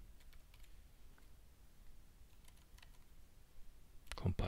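Faint keystrokes click on a computer keyboard while code is entered, quiet and scattered, then a louder burst of clatter near the end.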